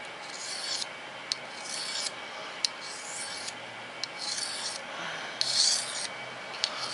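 A knife blade is drawn along a strop in a steady rhythm of rasping strokes, each pass separated by a soft tap, close and moderately loud with no talk.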